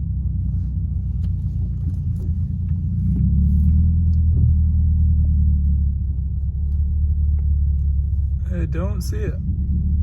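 Steady low engine rumble from a Toyota Solara car cruising along the road, a constant close drone that swells slightly midway, with a voice speaking briefly near the end.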